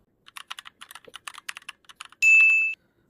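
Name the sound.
typing a Gmail address on a computer keyboard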